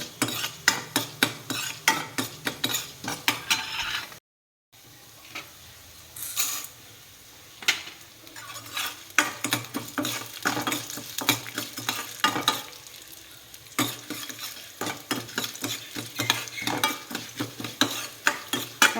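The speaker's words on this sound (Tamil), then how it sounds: "கருப்பு உளுந்து கொஞ்சம் நேரம் நல்லா ஃப்ரை பண்ணிவிட்டு அப்புறம்தான் துவரம் பருப்பு போடணும்." Black urad dal frying dry in a pan while a spoon stirs it repeatedly, giving rhythmic scraping and rattling of lentils against metal over a soft sizzle, close and continuous apart from a brief gap.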